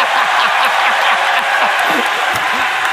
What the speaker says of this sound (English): Round of applause for Anna, everybody.